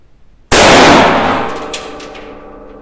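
A single loud FAMAS rifle shot cracks sharply, its metallic ring decaying over about two seconds, with a faint clink like a spent casing landing near the end.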